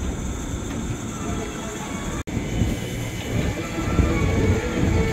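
A KRL commuter train, one of the JR 205, TM 6000 or CC 206 sets, rumbles through Gondangdia station with a steady, loud roar of wheels and motors that builds slightly toward the end.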